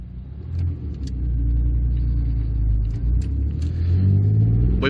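A 1982 Ford Capri 2.8 Injection drives along a road, heard from inside the car: a steady engine drone that builds in pitch and loudness as it accelerates toward the end.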